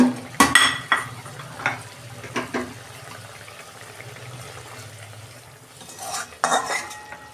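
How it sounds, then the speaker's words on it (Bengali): Prawns go into a simmering pot of prawn malai curry, with metal spoon clatters and scrapes at the start, a quieter bubbling stretch, then more clinking stirring near the end. "এবার আমি মাছগুলো দিয়ে দেবো।"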